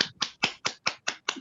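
Seven sharp hand claps from one person at a spiritual and healing centre gathering, spaced evenly about a fifth of a second apart, close and crisp with no talk.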